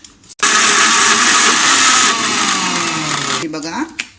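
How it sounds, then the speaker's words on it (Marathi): A mixer grinder blends fresh coconut chutney with a little water, roaring loudly and steadily after a short click-on, its motor pitch sagging slightly as it grinds before it winds down and stops near the end. "आणि आता आपल्याला हे मिक्सरला लावून घ्यायचं आहे"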